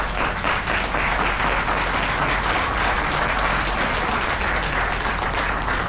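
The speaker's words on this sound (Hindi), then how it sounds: "हम चाहेंगे उनके सम्मान में जोरदार ताली।" Loud, sustained applause fills a motivational seminar hall on network marketing, a dense crowd clapping steadily and evenly for the whole stretch with no voices above it.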